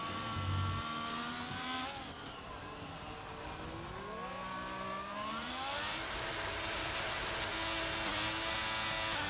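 Race cars crossing the finish line in a racing video game, engines whining and shifting pitch continuously as cars pass, loud and sustained with no talk.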